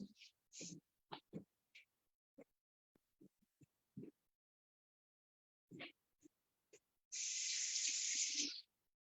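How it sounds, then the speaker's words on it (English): A bathroom tap runs steadily for about a second and a half as a washcloth is rinsed at a sink, following scattered short voices and small handling noises. "You need to just rinse your washcloth again."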